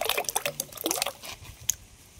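Potatoes, onions and green chillies are rinsed by hand in a bowl of water, giving close, irregular splashes and drips that thin out toward the end.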